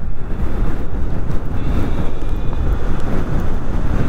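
Strong gusty wind buffeting the microphone while riding a Dualtron Thunder III electric scooter, a loud continuous low roar and rumble with no speech.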